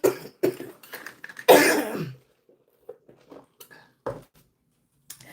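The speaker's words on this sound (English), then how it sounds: "I'm 40 minutes in and I just started coughing" A few harsh coughs and throat-clearing bursts sound close to the microphone, one longer rasping cough followed by smaller scattered hacks and quiet pauses.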